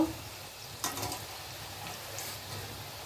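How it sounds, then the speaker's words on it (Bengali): Kofta balls frying in oil in a kadai, a faint steady sizzle with a brief louder crackle near the start, low and continuous throughout. "দেখুন কোফতাগুলো আস্তে আস্তে ভাজা হচ্ছে, হালকা লাল হয়ে গেলে আমি এগুলোকে নামিয়ে নেব।"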